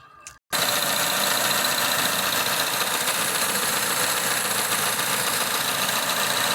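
A car engine fires up after a brief pause and settles into a steady idle after an ignition coil and spark plug check, a loud, even, close hum running to the end.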